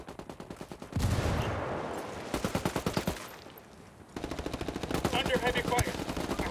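Automatic gunfire in the video game Ghost Recon Wildlands rattles in rapid bursts with short pauses between them, loud and close.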